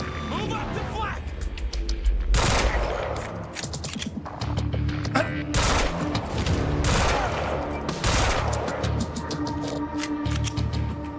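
Gunfire bursts in the video game Quantum Break, loud broadband volleys in repeated clusters with dense crackling shots layered over game music and effects, while a player talks throughout.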